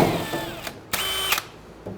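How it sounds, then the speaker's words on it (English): A power drill with a small bit pre-drills into metal during a 1970 Dodge Dart engine swap, short bursts of whining motor with pauses between, close and fairly loud. "I'm going to pre-drill this with a smaller bit."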